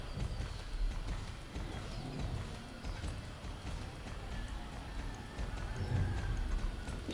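Horse hooves gallop in the Star Stable video game as soft, continuous rhythmic thudding under a steady bed of game ambience, fairly quiet throughout.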